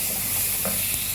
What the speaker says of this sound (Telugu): ఇది కూడా ఒక నిమిషం దూర వేయించుకోవాలండి